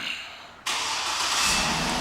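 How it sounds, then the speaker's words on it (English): A 2007 Cadillac Escalade ESV AWD fires up by remote start after a brief near-silence, its engine catching abruptly and settling into a loud, steady run. "And the car turns right on."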